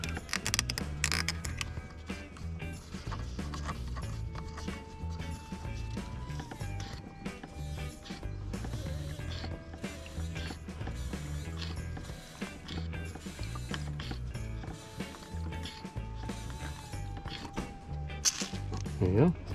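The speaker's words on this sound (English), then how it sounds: "this is where it's called a hand pump for the fuel" A tractor's manual fuel hand pump worked by hand, giving a long run of close, rhythmic mechanical clicks and ratcheting strokes over faint background noise.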